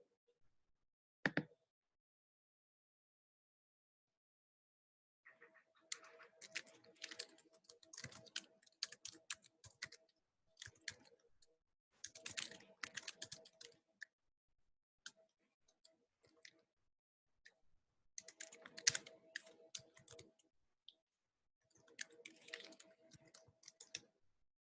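Computer keyboard typing comes in scattered bursts of light, close key clicks separated by short pauses, with a single sharp tap near the start and a quiet room behind, no voices.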